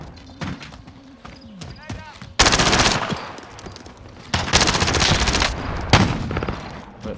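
Heavy automatic gunfire in Call of Duty Warzone, loud sustained bursts of rapid shots with a few scattered single reports and thuds before them, voices talking over parts of the exchange.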